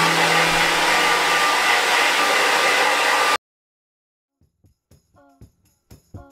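A blow dryer roars loudly and steadily while drying hair, then cuts off abruptly about halfway, leaving near silence broken by soft handling clicks and light taps.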